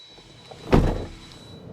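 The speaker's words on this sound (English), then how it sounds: "just like the door closing sound" A single solid thud as the door of a Cupra Tavascan electric SUV coupé shuts, short and close against quiet background hiss.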